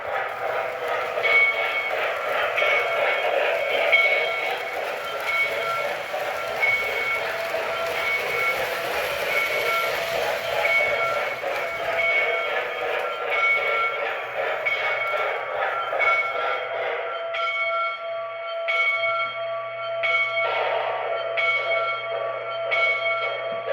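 Bell sequence from an MTH RailKing Pennsylvania K4 model train, a steady ringing bell over continuous rumbling running sounds, loud and close, shifting to a sparser tolling pattern near the end.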